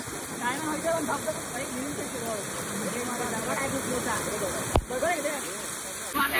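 Water rushes with a steady, loud roar at Lal Thane waterfall near Saphale, with strong, rising flow, and voices talk over it.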